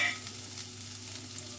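Cauliflower florets frying in a pan as they are stirred, a soft, even sizzle with faint scraping, quiet and steady with no voices.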